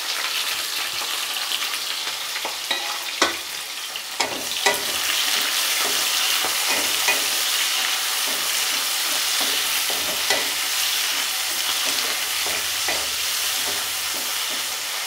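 Three sliced onions frying in a pan, a loud, continuous sizzle that runs throughout, broken by occasional clicks and scrapes as they are stirred, with no one speaking.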